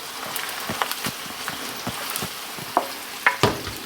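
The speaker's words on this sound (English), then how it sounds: "So you just want to give those a stir and make sure everything from the bottom is incorporated in." Softened onions stirred in a frying pan, with a steady hiss of sizzling and intermittent scraping and clacking of the utensil against the pan, close and moderately loud, with no talking.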